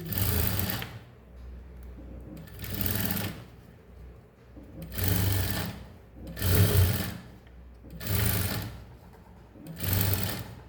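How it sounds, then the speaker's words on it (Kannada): A sewing machine stitching a coat collar runs in six evenly spaced bursts of rapid whirring, each lasting about a second, with quiet pauses between, close and alone. "ನಾನು ಸ್ಟಿಚ್ ಮಾಡ್ಕೊತಿದ್ದೀನಿ ಫ್ರೆಂಡ್ಸ್"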